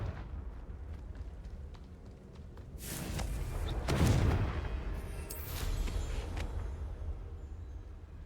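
Confringo blasting curse in a Harry Potter game, a booming explosive burst with crackling blasts rising to a peak and trailing off, loud and close against a low ambient rumble.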